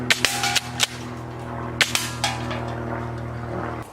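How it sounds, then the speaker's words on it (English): JG SPAS airsoft shotgun firing BBs at cans outdoors, a handful of crisp, close snapping shots spaced irregularly over a steady background hum. "So the shooting test for the cans went pretty well"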